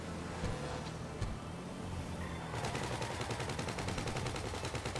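Rapid gunfire in GTA V Online during a heist setup, with a dense, continuous crackle of automatic shots layered over vehicle engine noise and never pausing.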